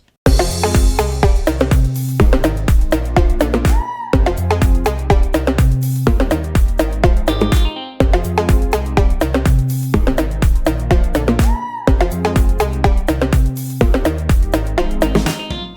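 A loud, full electronic dance drop with pounding beats and crashing cymbals, made in GarageBand, looping in four-second phrases with brief drop-outs between them.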